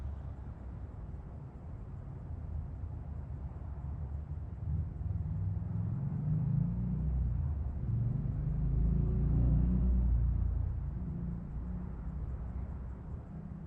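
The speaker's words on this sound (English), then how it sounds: "you could hear all the cars going by" Traffic on a big city street in Gatineau makes a continuous low rumble of cars passing, swelling slightly toward the middle and fading again, with no voices.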